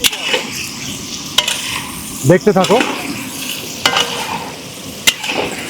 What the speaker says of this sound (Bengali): তেল গরম হয়ে গেছে, দিয়ে দেবো আলু।